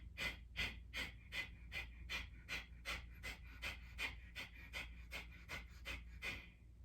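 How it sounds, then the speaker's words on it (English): Rapid, forceful exhales through the nose in a breathing exercise, close and soft, a steady rhythmic series of about twenty sharp puffs repeating roughly three times per second. "really forcing that exhale out the nose, and your inhale will come naturally"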